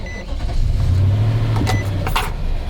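A truck engine cranks and catches close by, settling into a low, steady idle with a few brief higher-pitched clicks and rattles over the running motor.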